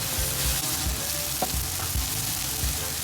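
Chopped tomatoes and onions sauté in butter in a pot for beef stew, giving a loud, steady sizzle close by with a few soft stirring scrapes and no speech.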